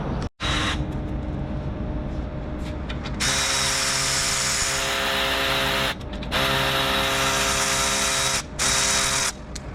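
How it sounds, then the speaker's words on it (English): A power drill bores a hole into the rear steel frame of a Lexus GX460 during a rear bumper install, whirring in long bursts with short pauses between runs, close and loud. "we drilled a second hole in the rear of the frame"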